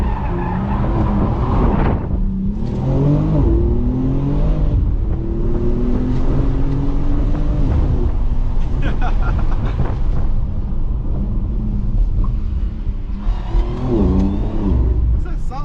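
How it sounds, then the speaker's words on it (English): A 2022 BMW X3M Competition accelerates hard with a whining, supercharger-like engine note rising in sweeps, tires squealing during drifting, while occupants talk loudly inside the cabin. "It's like a supercharger sound."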